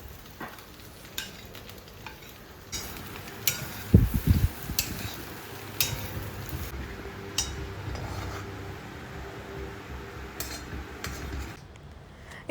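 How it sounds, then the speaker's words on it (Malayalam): Spice mixture with ajwain being stirred in a pan for samosa filling, scraping and clinking of a spoon against the pan in irregular bursts, close and fairly loud, with no talk. "ഈ മസാലകളൊക്കെ അതിലേക്ക് ഇട്ട് കൊടുത്തിട്ട് നന്നായിട്ട് മിക്സ് ചെയ്യണം"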